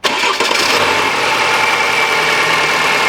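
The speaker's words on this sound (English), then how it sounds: "Start the engine, please." A car engine cranks and catches, then settles into a steady, loud idle with a constant mechanical hum, during a test of a non-working AC system.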